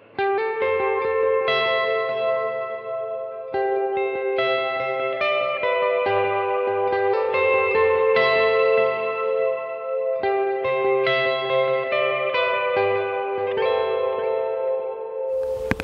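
Electric guitar playing arpeggiated melodic chords through a Strymon Big Sky ambient reverb and delay pedal, notes ringing into long shimmering washes and repeating echoes, loud and continuous with no talking.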